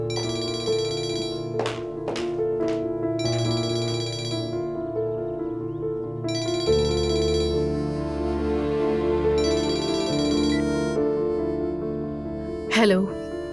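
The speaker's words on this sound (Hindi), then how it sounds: "खुदा रा फोन तो उठा लो" A telephone rings in repeated electronic bursts while someone waits for an answer, with a dramatic music score and brief sharp effects underneath.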